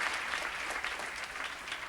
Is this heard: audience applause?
yes